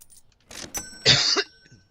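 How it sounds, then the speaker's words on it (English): A close, harsh cough in a couple of bursts, the second louder and raspier, in otherwise quiet surroundings. "I don't mean to cough in you guys' ear"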